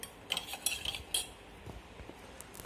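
A spoon stirs a yeast mixture in a bowl to break up lumps, giving a run of bright metallic clinks and scrapes against the sides, close and fairly quiet, with no talking.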